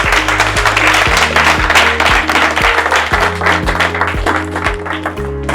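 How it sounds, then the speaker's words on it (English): A small audience at an evening money seminar claps, with dense sustained clapping over a low hum and a few rhythmic tones in the background. "Clap for me."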